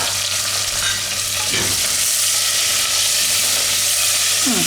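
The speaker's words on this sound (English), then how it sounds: "Now I will add the 2 onions that I have cut up." Chopped onions hit a hot pan of oil with curry leaves, asafoetida and spices for masala khichdi, giving a loud, steady sizzle with stirring scrapes throughout and no talking.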